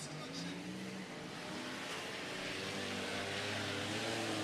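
A race car engine roars at wide open throttle, loud and sustained, with a steady droning rise in pitch over a continuous crowd-and-track wash at an off-road racing event.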